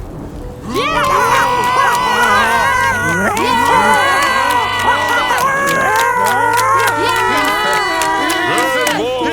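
A large crowd shouts and screams loudly together, many overlapping voices in a dense continuous roar that holds steady and close, with a low rumble beneath.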